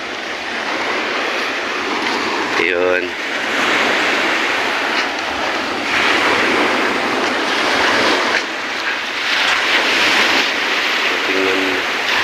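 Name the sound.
big sea waves breaking along the shore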